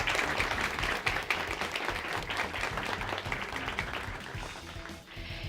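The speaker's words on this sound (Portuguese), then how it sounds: "uma salva de palmas para vocês" A group of visiting university students at the Chamber of Deputies gets a sustained round of applause, dense steady clapping filling the room and fading slightly at the end.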